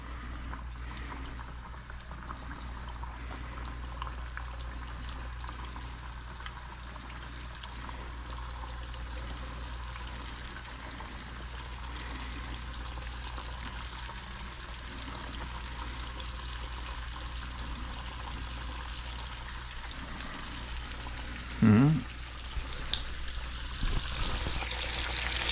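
Grease is poured into a pan and starts to cook. A steady, soft pour and low sizzle run under a constant background hum, with a brief louder clank near the end.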